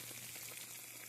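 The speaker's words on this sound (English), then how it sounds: "Listen to that sizzle." Pesto macaroni and cheese, baked until bubbly, sizzling faintly in its pan: a soft, steady hiss with light bubbling, quiet and close, with no voices.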